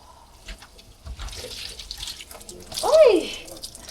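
Water running from a tap during cleaning, a faint hiss and splash near and under low background voices, swelling briefly louder toward the end.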